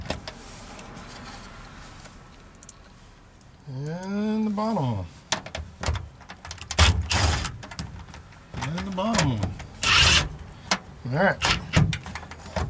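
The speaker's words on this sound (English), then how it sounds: "drive them all the way before you go full tilt like a Peterbilt on the damn screw gun" A screw gun drives screws into jail bars on a 1971 VW Bus, its motor whirring in several short bursts that rise and fall in pitch, mixed with nearby metallic knocks and clanks.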